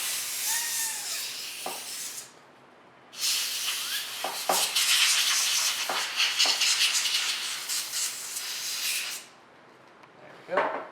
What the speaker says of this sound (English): And blow this out with compressed air.